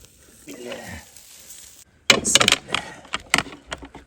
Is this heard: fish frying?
yes